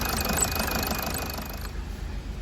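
A Toyota Auris engine idling after a repair for a crank-no-start fault, a steady close mechanical chatter and hum that eases off slightly near the end.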